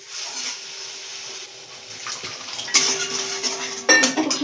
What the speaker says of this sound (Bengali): একটুখানি সামান্য জল দিলাম